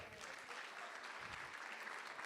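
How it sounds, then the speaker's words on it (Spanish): Steady crowd applause at a church service, dense clapping that continues evenly throughout at a moderate distance. "denle un fuerte aplauso al Señor"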